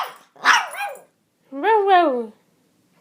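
A small dog lets out two short barks, close and fairly loud, with a quiet pause between them.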